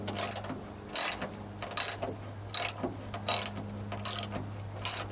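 A ratchet wrench turns a 13mm socket in short repeated bursts of rapid clicking, about six strokes spaced roughly evenly with quiet pauses between, heard up close.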